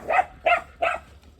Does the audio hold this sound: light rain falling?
no